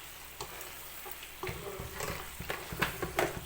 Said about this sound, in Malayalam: അതും ആഡ് ചെയ്ത് കൊടുത്തിട്ട് നന്നായിട്ട് ഇളക്കി മിക്സ് ചെയ്ത് യോജിപ്പിച്ചെടുക്കണം